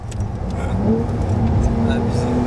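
A Porsche 911 engine hums and revs steadily from inside the cabin, a loud continuous drone with a rising tone, voices talking faintly over it.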